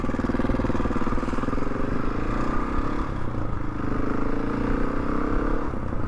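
A motorcycle ridden over moorland roads near Otley toward Ilkley on a cold, fine day, its engine droning steadily and close throughout with a continuous rumbling hum and no talk.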